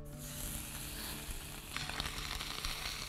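Meat sizzles in an oiled frying pan: a close, steady, dense crackling hiss that swells slightly busier partway through, with no talking.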